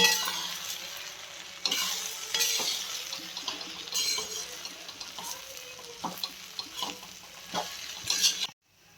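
Spoon stirring fried peanuts into chapati poha in a pan, repeated scraping and clinking strokes over a soft sizzle, close and fairly loud.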